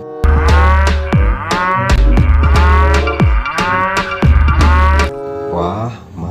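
A toy cow gives a loud, close run of repeated electronic moos in a steady rhythm, each bright and strongly pitched, with nothing else heard.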